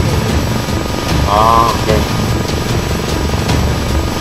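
A helicopter in the video game Arma 3 drones loudly and steadily with a rotor chop throughout, while someone briefly speaks over it.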